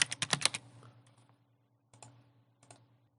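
Quick bursts of keystrokes on a computer keyboard as login details are entered: a fast run of clicks at first, then a pause and two short later taps, close and fairly quiet.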